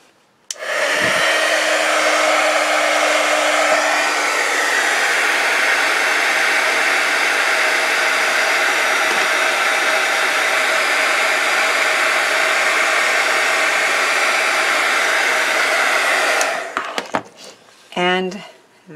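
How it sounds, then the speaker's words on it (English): Heat gun blowing a steady loud hiss for about sixteen seconds while melting embossing snow powder on a card, then cutting off with brief tapping and clinks afterward. "And then you heat it with a heat gun."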